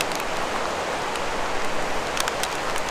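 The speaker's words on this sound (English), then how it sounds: "More hail." Outdoors in England near Skipton, hail comes down as a continuous, even rattling patter with a few brighter clicks of stones landing close by, and nobody speaks.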